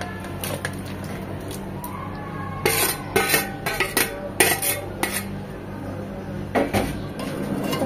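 Fried chicken pieces tipped into masala in a pot, several clattering metal clinks and scrapes of utensil against cookware in quick clusters over a quiet background.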